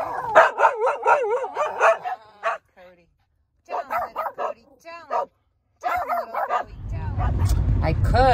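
Several dogs bark and yip in quick, close bursts with short pauses between, a voice mixed in among them, and a burst of rushing noise at the end.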